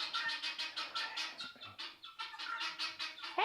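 Guinea fowl on a farm keep up a rapid, harsh, repeated calling, a steady chattering run of squawks close by with a brief dip in the middle before the noisy calls resume.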